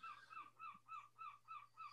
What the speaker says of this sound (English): It's a seagull, yeah.